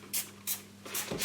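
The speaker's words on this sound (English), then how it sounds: "So I'm going to spray a little bit of regular all-purpose cleaner over this." All-purpose cleaner is sprayed from a trigger bottle onto a stained sink in four quick, short hissing bursts, close and fairly quiet over a faint background hum.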